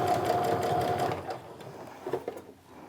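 A sewing machine runs steadily stitching along the bottom edge of a sling bag's fabric, a close, continuous motor whir that slows and stops with a few brief clunks near the end.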